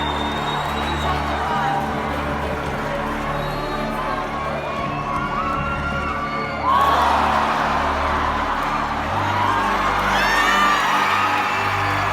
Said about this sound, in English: You can almost hear the roar of the crowd.